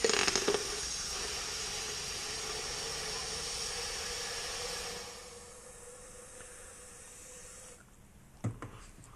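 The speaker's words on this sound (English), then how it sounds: "I'm going to start with some carburetor cleaner though, see if this will degunk it." An aerosol can of carburetor cleaner sprays into an engine cylinder in a long continuous hiss lasting about five seconds, then quieter faint sprays and a few brief clicks and knocks at the end.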